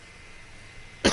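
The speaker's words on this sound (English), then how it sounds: "I've been trying not to cough" A single sharp cough near the end of a quiet stretch, close and fairly loud, with only faint background hiss before it.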